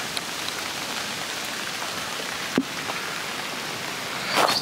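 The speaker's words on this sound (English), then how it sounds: "It's just started to rain again." Rain falls outside at a cottage patio site as a steady, dense hiss of drops on surfaces, fairly close and even throughout, with a faint knock midway and no talk.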